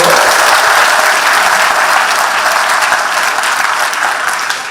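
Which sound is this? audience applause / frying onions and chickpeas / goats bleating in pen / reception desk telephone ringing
audience applause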